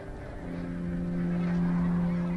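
Geese from Svalbard migrating, calling with steady honking over a continuous drone, the calls sustained and fairly loud for a couple of seconds.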